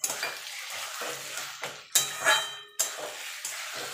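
Taro greens with green chilli are stirred and fried in a pan, a soft sizzle running underneath while a spoon or spatula scrapes and knocks against the metal in several close, uneven strokes.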